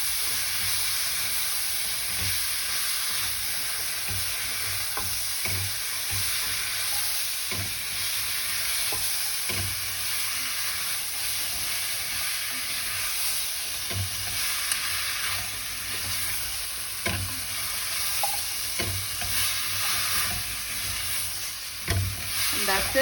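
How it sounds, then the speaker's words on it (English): Chopped watermelon rind fries in a pan over a medium flame, giving a continuous sizzle and hiss. Scattered scraping clicks come from a spoon stirring throughout. "we're going to go ahead and dump that in"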